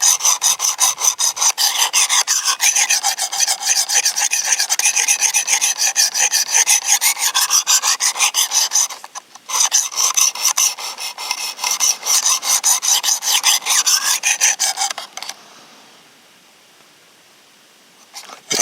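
Knife blade being sharpened on a Work Sharp Precision Adjust sharpener, a rapid, rhythmic rasping of stroke after stroke that continues steadily, pauses briefly, resumes, then stops near the end.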